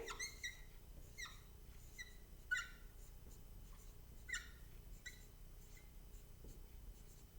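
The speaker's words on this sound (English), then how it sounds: "So I'm going to write that right here." Pen or marker writing music notes on a board, faint squeaky strokes in short irregular bursts against a quiet background, with no talk.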